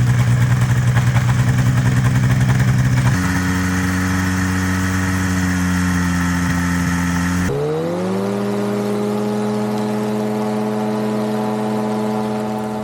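A powered parachute engine runs loud and close on the ground, a steady droning hum that steps up in speed twice and settles into a higher, smoother whir.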